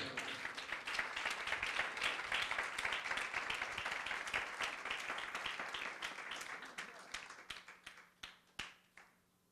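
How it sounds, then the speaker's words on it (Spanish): Church congregation claps loudly and steadily for several seconds, a dense crowd applause that thins into scattered last claps near the end. "Dale un fuerte aplauso al Señor."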